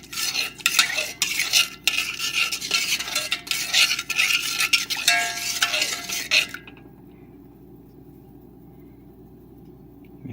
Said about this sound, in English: Gotta mix it up.